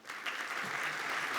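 A seminar audience applauds panelists in a short burst of dense, steady clapping from a crowd, heard alone.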